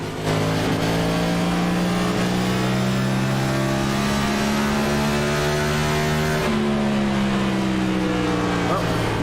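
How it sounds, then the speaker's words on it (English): Race car engine from the iRacing video game during a NASCAR Cup Series round at Richmond, droning loudly at high revs with a sudden pitch drop partway through like a gear shift, then climbing again. "It sounded like he was gear shifting there, but let's have a listen anyway."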